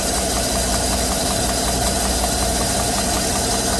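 Engine of a 2014 GM truck idling with a dead miss on cylinder five and a loose plug wire letting spark jump, a steady close rumble with faint rhythmic ticking throughout, no voices.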